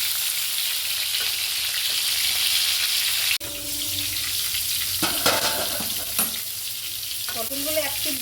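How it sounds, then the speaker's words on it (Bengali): Pointed gourd (potol) pieces fry in hot oil as they are turned, giving a bright continuous sizzle broken by a sharp utensil clack and a few scraping stirs, with no talking. "পটলগুলোকে আমি উল্টিয়ে উল্টিয়ে এখন আর এক পিঠ ভাজবো।"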